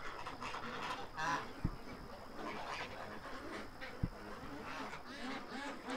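Geese honk and ducks quack together on a chilly farm, a busy overlapping chorus at moderate distance with two sharp knocks, no talking.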